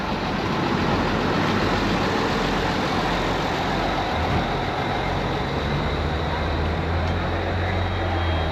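Tractor engines idle at a school tractor day, a dense, continuous diesel rumble that holds steady and close throughout, with a heavier low drone near the end.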